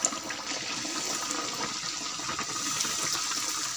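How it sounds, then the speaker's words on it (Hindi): Chicken samosas fry in hot oil over a high flame, giving a steady close sizzle and bubbling hiss that fills the few seconds after a brief splash at the start. "अब हम इन्हें फ्राई करते हैं।"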